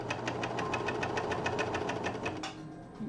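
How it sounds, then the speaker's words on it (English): A serger stitches along the edge of a knit colorblock fabric piece, running steadily with a fast, even mechanical chatter up close, then slowing and stopping near the end. "serge the edge of my color block"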